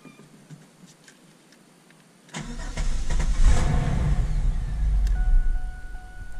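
A fourth-generation V6 Camaro engine cranks and fires after a couple of seconds of quiet, then settles into a loud, steady idle close to the microphone, with no talking.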